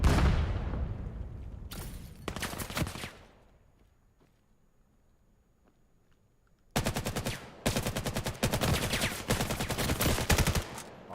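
Rapid automatic gunfire in the VR shooter VAIL, with two long bursts of closely spaced shots, the first fading to near silence and the second running loud and dense through to the end.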